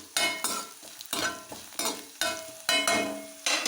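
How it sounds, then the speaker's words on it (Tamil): Capsicum and potato curry is stirred in a pan, with a steady series of about eight rhythmic scraping strokes of a spatula over a soft frying sizzle, close and clear, with no talk. "அதனால் லேசாக அப்பப்போ கிளறி விடுங்க"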